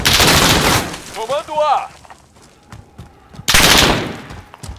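Bursts of automatic gunfire ring out in Call of Duty Modern Warfare during a Domination match, loud rattling volleys at the start and end with a shouted voice in between.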